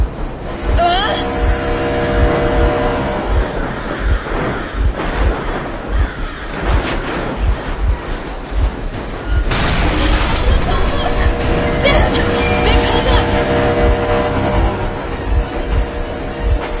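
A vehicle engine running in Metro Exodus, a loud, steady low rumble with rhythmic pulsing throughout, overlaid with voices and occasional bursts of louder noise.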